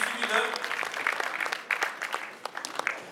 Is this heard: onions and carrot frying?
no